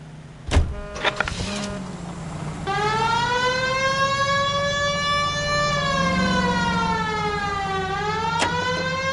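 Police car siren in the video game L.A. Noire, a loud wailing tone that rises and sweeps steadily, preceded by a few thumps and engine noise, with no talk.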